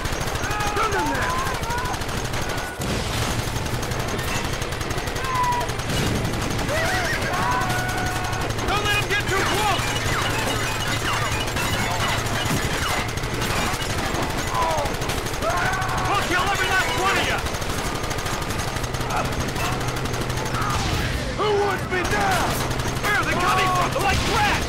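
Shootout gunfire in the western video game Red Dead Redemption, steady rapid shots running throughout under a talking player and game music.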